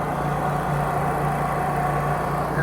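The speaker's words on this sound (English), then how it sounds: "That generator runs the entire time that the crew is on the site, from morning till night" A generator runs steadily on a construction site for a log home, powering a compressor, air hoses and lights, giving off a continuous loud engine hum with no break or change.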